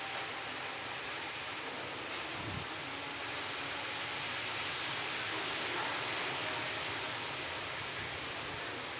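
Strong wind blowing in Jakarta, a dense steady roaring rush with no gusts standing out, constant and fairly loud throughout with no voices.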